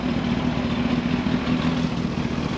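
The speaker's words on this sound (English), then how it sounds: "Just about idling there at 35 degrees." A Yamaha R1-engined spaceframe racecar engine idles steadily and evenly at close range at 35 degrees, a constant low rumble with no revving and no voices.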